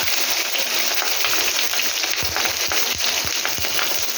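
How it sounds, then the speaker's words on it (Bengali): Eggplant and tomato frying in hot oil in a pan, with garlic about to be added, a steady dense sizzle and crackle throughout with small pops and stirring scrapes, close and continuous. "এগুলো সব ভালো করে ভাজবো।"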